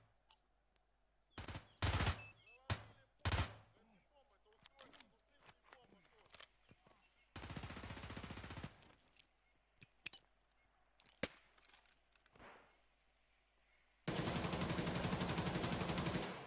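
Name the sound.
gunfire from an AK-12 rifle in a video game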